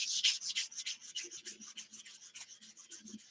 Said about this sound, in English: Sanding with 320.